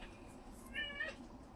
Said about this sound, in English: You may hear my cat